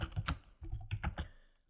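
Typing on a computer keyboard while text is entered into a children's writing application, with quick bursts of close key clacks and a short pause before the tapping trails off.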